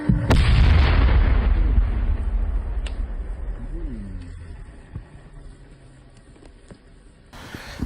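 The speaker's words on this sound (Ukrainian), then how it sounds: "Вибух." A loud, deep explosion booms up front, then rumbles and decays into a long fading tail with faint scattered noises.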